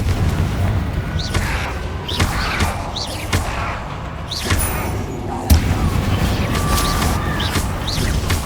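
Spell blasts in Hogwarts Legacy, including the Confringo fire spell, thud and boom in loud, repeated bursts over rumbling battle noise with quick whooshing casts. One sharp explosion stands out near the middle.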